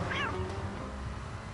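A single cat meow rises near the start of a radio advert in Grand Theft Auto 3 Definitive Edition, then gives way to a low, steady background hum with no talk.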